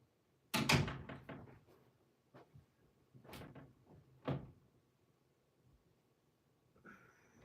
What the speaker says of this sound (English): These cats keep playing with the bottom of the door in and out.